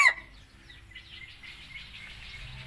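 A fighting rooster, a young red bird still in training, gives a brief loud call at the start, followed by softer clucking and chirping bird sounds in the background.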